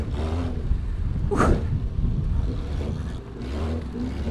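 Cross race cars in a muddy pack of six roar and rev from on board one of the prototypes, with a loud engine drone, a sharp burst midway and rough rumbling throughout.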